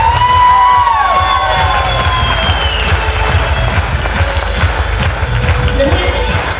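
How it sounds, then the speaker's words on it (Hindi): Loud crowd applause and cheering at a motivational seminar, a dense burst of clapping and shouts that stays strong for several seconds with whistles and a voice over it. "एक बार तालियां अपने जोरदार ताली दो।"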